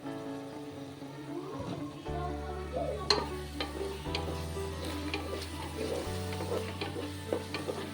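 Mint leaves and hand-torn green chillies frying in a pan for coriander chicken curry, a steady sizzle with repeated stirring scrapes and taps, set against a faint humming tonal background.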